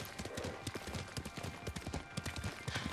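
Horse hooves clip-clopping in a fast, steady gallop rhythm while riding in the video game Ghost of Tsushima, close and continuous without speech.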